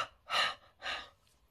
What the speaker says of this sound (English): and then I breathe on it.